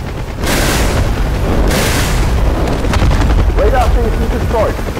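Explosion of a radar station in the DCS World combat flight game, a loud deep boom with rumbling debris and crackling that rolls on for several seconds, with further thuds layered in.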